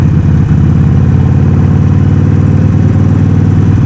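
A Harley-Davidson Sportster 48 with a large air-cooled engine rumbles at low speed in traffic, a loud, close, steady throbbing beat with no voices.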